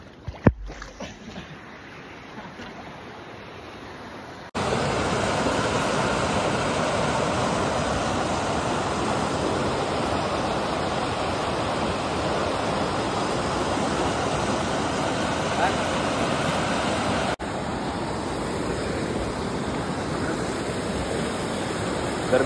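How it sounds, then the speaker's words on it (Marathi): A swollen village river flows fast, a loud continuous broadband rush of water that swells in abruptly after a quiet start and holds steady, close and alone. "तुम्ही बघू शकता इकडे माझ्या मागे फ्लो किती जोरात आहे पाण्याचा"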